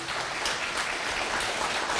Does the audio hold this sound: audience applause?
yes